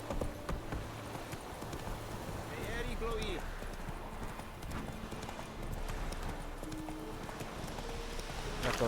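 Hooves of the horse Roach clip-clop steadily in the video game The Witcher 3, a soft rhythmic patter heard faintly throughout with a brief whinny, under someone talking.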